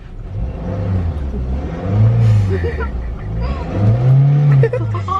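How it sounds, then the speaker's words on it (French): A car engine revs hard twice in a row, pitch sweeping up and falling back each time. The car is close and loud, with people talking over the engine throughout. "Vas-y Sandra, monte le moteur, monte le moteur."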